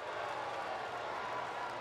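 Steady, dense roar of a stadium crowd at an NFL game during a replay review involving Philadelphia, a broad continuous wash of many voices with no distinct cheers or claps standing out.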